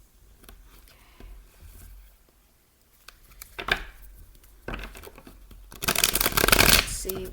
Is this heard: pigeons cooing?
no